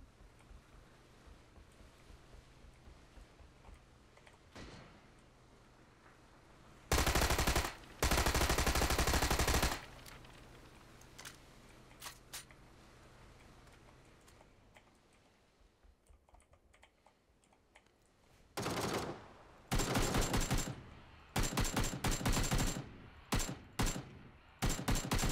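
Gunfire in PUBG on PC, several loud sustained automatic bursts and clusters of shots separated by quieter stretches, with soft keyboard clicking under the gaps.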